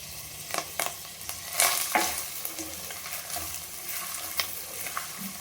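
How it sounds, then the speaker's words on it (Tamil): Chopped large onions sauté in a pan for a brinjal, potato and chicken curry, giving a steady close sizzle with intermittent scraping stir strokes and light clinks, no voices. "வெங்காயத்தை நல்லா வதக்கிக்கலாம்."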